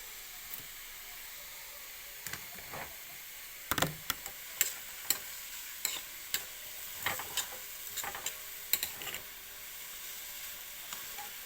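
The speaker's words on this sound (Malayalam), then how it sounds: "ഒന്നുകൂടി ഇളക്കി യോജിപ്പിക്കാം." Grated green papaya thoran (kappalanga) is stirred in a frying pan, a soft steady sizzle broken by a series of crisp scraping and tapping strokes of the spoon against the pan.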